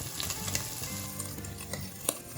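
Beef pieces browning for stroganoff in a hot pan with paprika, bay leaf and thyme, a steady close sizzle with crackling pops and occasional stirring scrapes, no voices.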